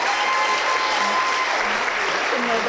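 Audience applauding young leaders at a police-community relations awards ceremony, a steady, dense wash of clapping across the room, with faint voices and a brief tone underneath.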